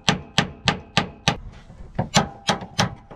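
Hammer tapping a flat screwdriver or chisel to unscrew a part while fitting a Sumospring on a converted Fiat Ducato van: about nine sharp, close metallic knocks in a steady rhythm, with a short pause midway.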